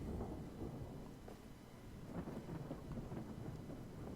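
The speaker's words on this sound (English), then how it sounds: "There's thunder." Thunder in the strategy game Hearts of Iron 4, heard as a sustained, rolling low rumble with crackling texture and gusty noise, fairly loud and continuous with no talking.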